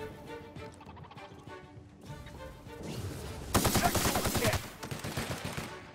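Rapid gunfire in a fight against gun turrets in The Outer Worlds, with a loud dense burst of repeated shots in the middle over steady game background sound.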